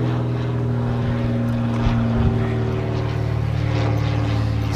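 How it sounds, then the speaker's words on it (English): A propeller airplane drones overhead near Snake Island, a loud steady engine hum with sustained low tones and a slight swell in the middle, heard alone. "There's a plane."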